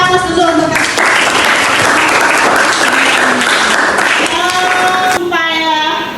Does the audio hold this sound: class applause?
yes